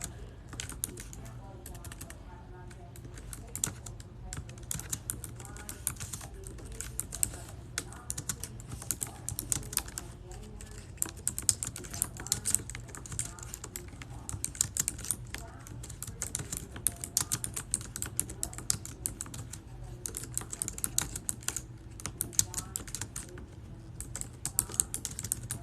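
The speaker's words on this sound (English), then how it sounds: "Let me type something descriptive." Rapid, irregular clicking of a computer keyboard being typed on nearby, soft and continuous, in bursts of keystrokes with a low hum underneath.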